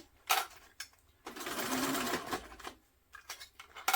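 A sewing machine stitches a tote bag, running in short bursts near the start and end with one sustained, loud stretch of continuous stitching in the middle, close up and without talk.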